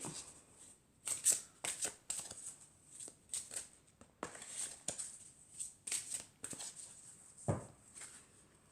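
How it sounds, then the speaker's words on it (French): Oracle cards of the Archangel Michael deck being shuffled and drawn, with a run of soft, close riffling and flicking bursts spread across the clip and one sharper slap near the end, quiet and without talk. "je vais prendre une carte donc de l'archange Michael pour savoir quel est le message pour ce week-end"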